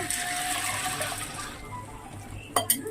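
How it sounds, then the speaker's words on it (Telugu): Water poured over dried white peas to soak them overnight for a street-style chaat, a steady splashing pour that fades after a moment, then two brief clinks or knocks near the end. "ఇలాగా వాటర్లో వేసి నైట్ అంతా నానబెట్టుకోవాలండి"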